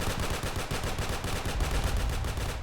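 Rapid, continuous gunfire from the online shooter Scorched Earth, a dense automatic stream of shots that stays loud and unbroken from start to finish.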